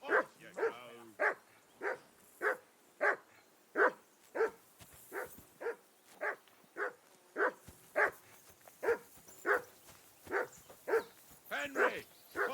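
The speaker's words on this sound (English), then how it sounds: "Jesus, Henry, that barking's driving me nuts." A dog in the medieval game Kingdom Come: Deliverance II barks steadily and repetitively, about two sharp barks per second, loud and close, with a brief voice near the start and end.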